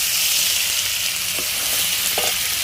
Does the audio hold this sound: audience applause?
no